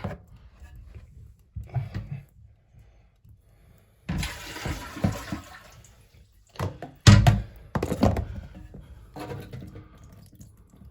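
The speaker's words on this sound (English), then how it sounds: "Let me go dump this bucket." Water from a plastic bucket of toilet tank water dumped out during a fill valve repair, heard as a short splashing gush near the middle amid clunks and handling noises, no voices.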